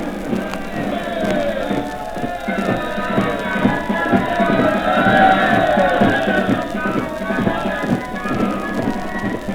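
A London crowd roars and cheers as troops pass in the 1937 coronation procession, a broad, steady swell of distant massed voices on an old 78 rpm recording with surface noise.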